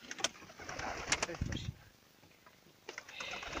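Pigeons coo with a low murmuring call amid clattering and rustling, while people talk nearby.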